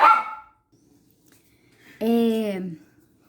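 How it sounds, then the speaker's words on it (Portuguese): A dog barks indoors twice. A short sharp bark opens, then silence, then a longer, drawn-out bark that sounds fairly close. "Quando o cachorro late, eu tô aqui concentrada, ele late, ele me desconcentra."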